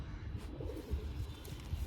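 Giribaz pigeons cooing close by, a low, steady throaty murmur that runs continuously through the short stretch with no voices over it.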